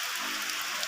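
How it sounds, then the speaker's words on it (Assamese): Heavy early-morning rain falls as a continuous, dense hiss of drops striking surfaces, steady and close, with no voices. "ৰাতিপুৱাই ইমান বৰষুণ দিয়ে"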